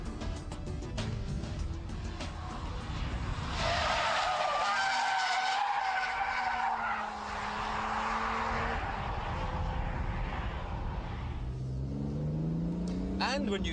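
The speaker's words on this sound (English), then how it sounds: "Now apply full throttle. Balance the car with the steering." A car drifting at full throttle, with loud, sustained tyre skidding and squeal over a revving engine whose pitch rises and falls, while someone talks over the sound.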